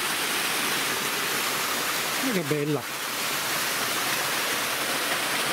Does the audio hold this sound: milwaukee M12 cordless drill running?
no